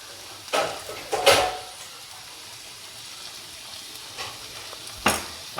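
Okra sabji with chili powder frying in a pan. It gives a low sizzle, broken by a few short scraping stirs near the start and another near the end, close and moderately loud, with no talking.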